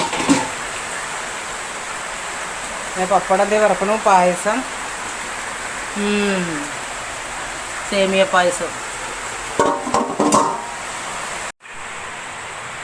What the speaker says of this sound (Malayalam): അടുക്കളയിൽ നല്ല മഴയുണ്ട്